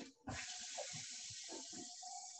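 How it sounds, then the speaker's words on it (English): Water runs from a tap into very dry home compost in a garage, a steady close pour with a few gurgles and splashes underneath, with no talking. "I'm actually going to add a little bit of water to this"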